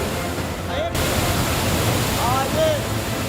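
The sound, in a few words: torrent of rainwater gushing down ashram stairs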